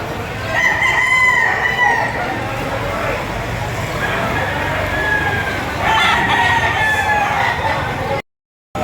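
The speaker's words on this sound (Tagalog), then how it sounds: "Itong manok." Several roosters crow one after another at a gamefowl market in Padre Garcia, Batangas, loud and close against a busy background of clucking, while someone talks over them.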